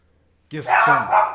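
A small pet dog gives one quick, close bark that breaks into a short yappy double note right after near silence.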